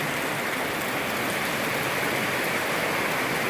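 Morning rain falling steadily, a dense, even hiss of drops that stays constant and fairly loud throughout, with no voices.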